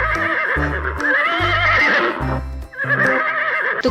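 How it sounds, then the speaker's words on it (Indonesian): A white horse neighs in a long, loud whinny up close, followed by a second shorter call, over a backdrop of playful music. "ada kuda putih juga nih"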